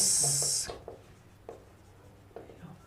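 Chalk or a marker scratches across a board in a few short strokes, faint and close, following a brief burst of hiss at the start.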